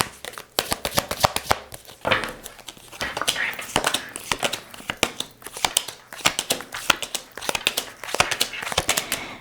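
Tarot cards are shuffled by hand in quick, crisp riffles and slaps, repeating in a steady, close rhythm throughout.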